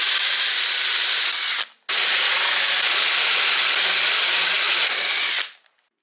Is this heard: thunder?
no